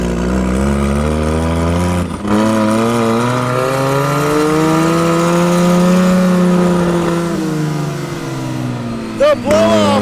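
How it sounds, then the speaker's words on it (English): A car with both a turbocharger and a supercharger revs loudly and close, its engine tone rising and falling in a long sweep, with a sharp burst near the end that may be the blow-off valve, over a speaking voice. "The blow-off is insane."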